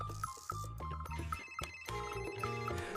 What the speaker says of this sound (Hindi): उनका पुराना बटन वाला मोबाइल बज उठा